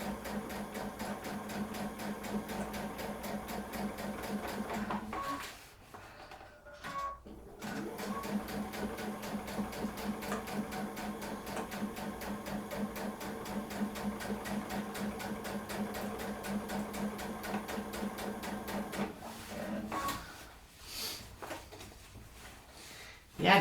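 A sewing machine stitches through a quilt in fast, rapid rhythmic bursts, running steadily with a couple of short pauses, close and fairly quiet.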